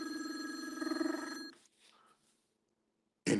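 A telephone bell rings loudly for about a second and a half as a comedic sound effect, then cuts off into near silence before a short burst returns at the end.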